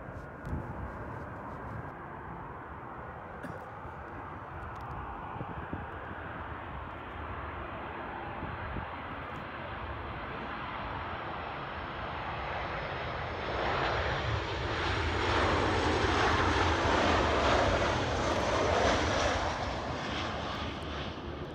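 A NASA DC-8 jet airliner landing at Anchorage, a broad continuous engine roar that swells louder toward the end as the aircraft passes closer, heard alone without talk.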